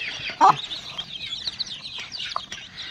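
A hen clucks softly a few times close by, short low calls over faint chirping of chicks.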